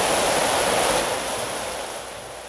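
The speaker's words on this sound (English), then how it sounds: "And when it rains in Rwanda, it pours." Heavy downpour in Rwanda, a dense steady roar of pouring rain that fills the recording, loud at first then easing slightly.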